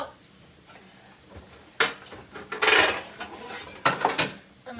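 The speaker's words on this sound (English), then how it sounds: "I'm going to just grab another pan and I'm going to put it on my stove" A pan being grabbed and set down on a kitchen stove, a few sharp metallic clanks and scrapes in a short burst, fairly close and loud against a quiet background, no talking.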